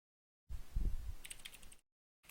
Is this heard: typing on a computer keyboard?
yes